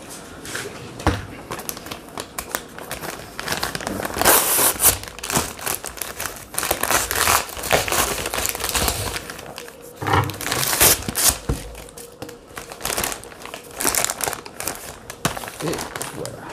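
A Canadian IMP ration package is cut open with a knife, giving steady crinkling and tearing of stiff plastic wrapping, close and fairly loud, with people talking over it.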